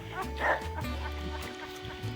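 Ace, a dog out on a lake and mountain trip, gives a loud bark up close, with a few lower yips and whimpers around it over a steady background rumble.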